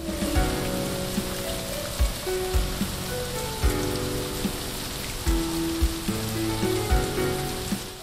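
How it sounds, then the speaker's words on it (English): Steady rain hisses across the whole stretch in a forest area of the video game Absinthia, with faint plinking drops and soft low thumps scattered beneath a wash of ambient music. "It's raining all of a sudden, not good."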